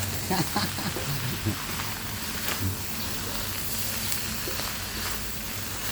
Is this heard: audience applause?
no